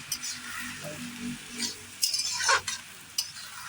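Chow mein noodles stir-fried in a pan with soy sauce, steady sizzling under repeated scraping stir strokes, with a few louder clattering bursts near the end and no talking.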